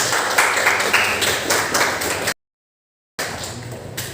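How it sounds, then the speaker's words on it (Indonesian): Audience applause breaks out for candidate pair number 2 at a school student council election debate, a steady broadband patter of clapping that briefly cuts out, then resumes. "Beri tepuk tangan yang meriah untuk pasangan nomor 2."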